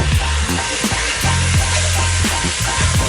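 Raw inch-cube potatoes hit hot oil with spices in a pan for a pheasant and potato curry, giving a loud, steady, close sizzle with light crackling throughout.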